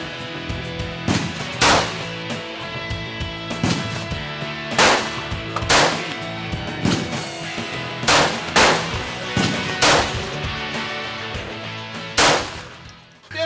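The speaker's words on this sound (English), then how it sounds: "Line it up in front of that target and just squeeze that trigger slowly." Handgun shots are fired at a target outdoors, about a dozen sharp, loud bangs spaced roughly a second apart and none drowned by talk.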